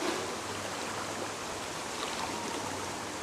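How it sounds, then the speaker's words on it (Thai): Steady rushing floodwater flows continuously in a town street, a dense, even wash of sound with no break. "น้ำไหล"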